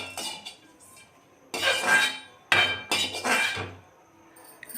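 A metal utensil clinks and scrapes against a kadai and plate while roasted dal is moved over, giving several bright clattering bursts at close range with short pauses between them.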